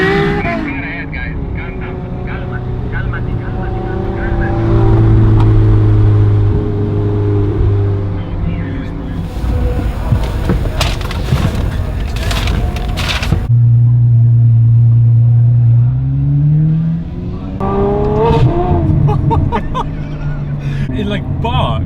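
A Ferrari F12 engine revs hard from inside the car on the road from Abu Dhabi, rising and falling through sharp pitch sweeps and gear changes, loud and close, with someone talking in between.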